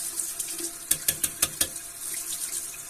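Tap water runs steadily into a bathroom sink as a face is rinsed after shaving, with several sharp splashing bursts in the middle and no talking.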